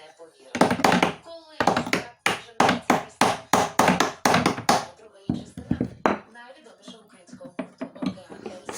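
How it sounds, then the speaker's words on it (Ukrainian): Hammer blows knocking at the hinge pin of a Tavria car door, a rapid series of sharp metallic strikes in quick bursts, then slower lighter taps, close, with someone speaking over part of it. "Спробуємо спочатку вибити шток."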